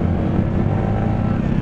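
Car engine running at steady revs, heard as a loud, close, continuous droning hum with a low rumble that holds evenly throughout, with no talking over it.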